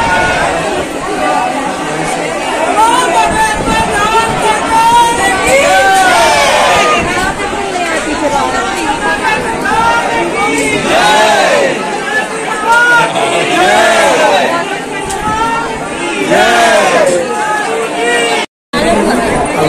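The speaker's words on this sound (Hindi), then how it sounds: "बहुत भीड़ है, आप लोग देख सकते हो।" Dense crowd chatter at a busy Hindu temple, a continuous babble of many voices close and far throughout, with occasional louder nearby speakers rising above the hubbub.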